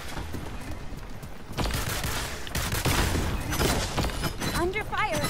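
Gunfire rattles in Realm Royale, with repeated sharp shots in quick bursts over busy game noise and a rising effect sound near the end, fairly close and loud.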